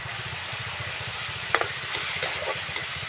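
Pork stir-frying with spring onions in a pan: a steady hissing sizzle with rhythmic scraping of the spatula, close and fairly loud, plus a few sharper clanks near the middle.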